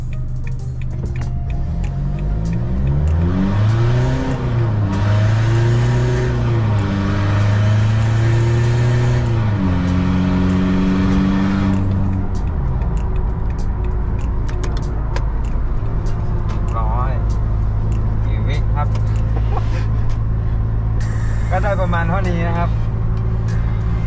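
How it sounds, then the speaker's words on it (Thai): An automatic Isuzu D-Max Blue Power Spacecab pickup accelerates to 100 km/h, heard from inside the cab: the engine note rises and drops through several gear changes, then settles into a steady cruising drone while someone talks. "อ่าเรามาลองส่วนถึงร้อยกันนะครับ"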